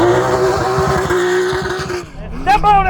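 A Porsche 911 built into a trophy truck roars at full throttle with a loud, raspy engine note. The revs drop briefly and then climb sharply again, with voices talking over the engine.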